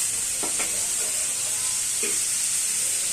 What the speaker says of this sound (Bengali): বেশ কিছুক্ষণ আমি এটা ভাজবো।